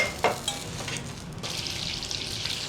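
Food sizzles in butter in a pan while an English breakfast is cooked, a steady close hiss with a few brief clinks of a utensil stirring.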